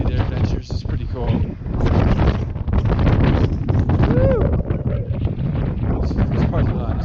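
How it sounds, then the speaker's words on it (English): Steady, gusty wind rushes and buffets the microphone in a parking lot, a loud broadband roar with faint voices underneath. "This parking lot is always windy."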